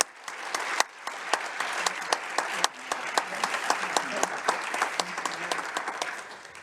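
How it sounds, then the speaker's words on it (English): A conference audience at a closing plenary and ceremony breaks into sustained applause, a dense wash of many hands clapping steadily, fairly close and even, with a few sharper individual claps standing out. "I think that they deserve also a big applause from all of us."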